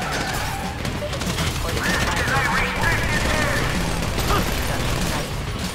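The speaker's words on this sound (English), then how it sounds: "So I guess we're shooting our way out of here." A shootout in Grand Theft Auto V, with dense bursts of gunfire and clattering weapon noise that stay loud from start to finish, mixed with voices.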